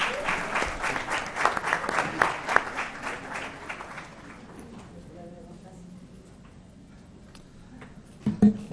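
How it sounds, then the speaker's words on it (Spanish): Audience at a forum applauding a speaker, dense loud clapping for about four seconds that thins and fades out, leaving a quiet room with a faint rustle and a brief knock near the end. "les pido un fuerte aplauso a Max Rayde"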